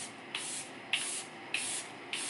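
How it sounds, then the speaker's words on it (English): Charlotte Tilbury setting spray misted from a pump bottle in four quick, evenly spaced hissing bursts, each a short airy spritz close to the mic, with no voices. "I'm going to spray down with the Charlotte Tilbury setting spray"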